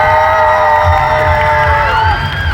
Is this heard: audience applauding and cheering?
yes